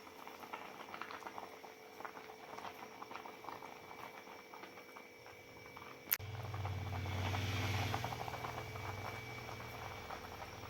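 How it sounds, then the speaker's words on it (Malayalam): Milk boils in a pot for vermicelli payasam with a steady bubbling patter. A sharp click comes partway through, then a low rumbling bubble swells before easing back. "നല്ലോണം തിളച്ച് വരുന്നുണ്ട്."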